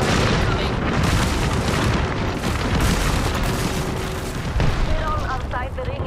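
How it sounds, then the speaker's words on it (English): An airstrike in Apex Legends lands as a continuous barrage of heavy explosions and booming impacts, loud and close, with a voice speaking faintly beneath the rumble. "Airstrike incoming."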